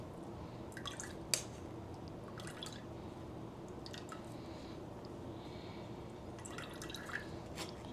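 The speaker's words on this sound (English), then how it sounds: "Here I'm just pushing the liquid out of the pulp since I don't have a cheesecloth to squeeze." Homemade almond milk is pressed out of pulp by hand, giving faint wet squishes and scattered drips close by against a quiet hiss, with one sharper drop standing out.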